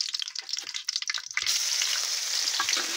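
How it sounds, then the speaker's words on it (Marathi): Garlic paste hits hot refined oil already seasoned with cumin seeds, first a few scattered crackles and stirring sounds, then a sudden steady, close, bright sizzle that holds to the end. "लसूण टाकल्यावर आपण याला थोडं परतून घेऊ."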